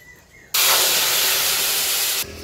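Water is poured onto sugar in a hot, otherwise empty wok, bursting into a loud steady hiss of steam that lasts under two seconds and then cuts off abruptly.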